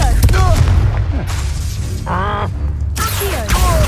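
A Confringo explosive spell going off in Hogwarts Legacy, sharp booming impacts with shattering debris, broken by a brief vocal grunt and followed by another burst.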